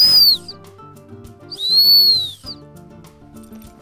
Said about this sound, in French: on met un coup de sifflet long